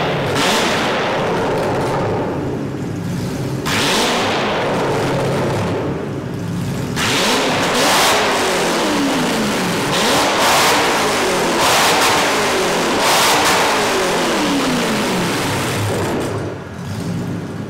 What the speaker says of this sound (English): I gave the throttle a blip, and then I let it come down. Then I gave it two more before I fully laid into the red line.